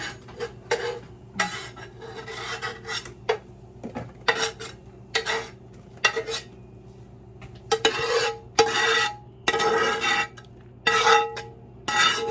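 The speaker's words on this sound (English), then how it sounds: "we're just going to get right in there and mix this up" Ground venison burger meat mixed by hand in a bowl, squishing, squeezing bursts with clinks against the bowl in an irregular rhythm, close and clear, with no talking.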